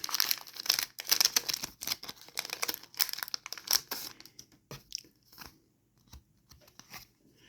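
A Pokémon TCG booster pack crinkles and tears open up close, with dense bursts of crisp plastic rustling for about four seconds. Softer scattered handling noises and card shuffling follow, with no talking.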